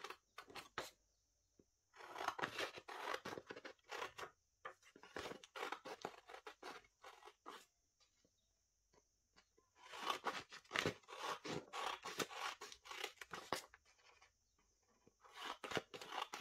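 Scissors cut through material to make a tab for a handmade tunnel photo album. Short bursts of quiet, close snipping and crunching are separated by pauses, with no talking.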